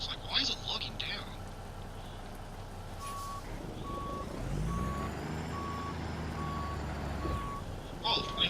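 A truck backing a trailer up in American Truck Simulator, its reversing alarm giving evenly spaced beeps over a low diesel rumble that swells midway, with someone talking at the start and end.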